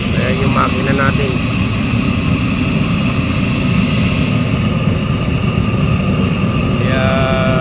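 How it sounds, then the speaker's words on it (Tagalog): A machine engine drones loud and steady throughout, a constant heavy roar close by, with faint voices in the background. "Ayan yung makina natin."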